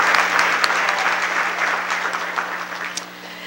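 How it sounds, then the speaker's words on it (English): Audience applause fills a room at an evening economic development awards event, steady dense clapping sustained throughout and fading slightly at the end, with no voices over it. "So you all should be applauded."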